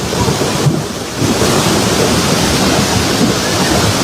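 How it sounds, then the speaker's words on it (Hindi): Heavy monsoon rain pours down in Maharashtra with a dense, roaring wash of water, and a loud rumble of thunder swells through it, close and continuous with no voices. "भारी बारिश ने मचाया हाहाकार।"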